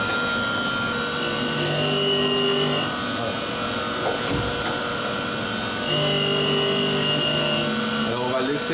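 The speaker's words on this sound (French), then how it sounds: "la meule descend à chaque passage" Water-cooled grinding wheel of a professional sharpening machine making a steady, moderately loud whirring, grinding hum as the carriage passes, with a slight surge in the middle and a brief clatter near the end.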